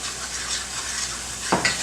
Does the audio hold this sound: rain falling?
no